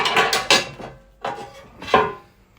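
Metal parts of a Toyota 3UZ V8 engine's oil pump being handled during a rebuild, with three or four clanks and knocks at close range separated by quiet gaps.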